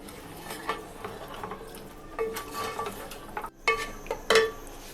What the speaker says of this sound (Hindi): अब हम गोश्त को फ्राई करेंगे।